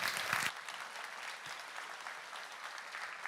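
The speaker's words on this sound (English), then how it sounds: "Round of applause, please, for Andre." A short burst of clapping from an audience at a security conference talk, fading quickly into a quieter murmur of scattered claps.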